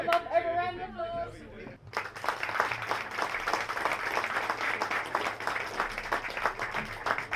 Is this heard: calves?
no